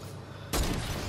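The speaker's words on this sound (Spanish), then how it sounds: "alguien está disparando porque se escuchan tiros" A sudden burst of gunfire in the Fortnite video game, a single booming report with a brief rumbling tail, moderately loud.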